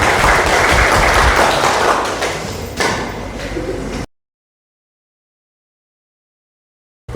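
Applause from children in an Indonesian school class, a dense burst of clapping that fades after about four seconds and then cuts to silence.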